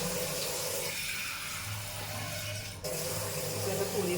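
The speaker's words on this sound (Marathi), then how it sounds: "आणि त्याच्यात अजून थोडं पाणी घालूया." Water is added to chole masala in a pan, a steady watery rush and sizzle running throughout at moderate level, with a brief dip partway through.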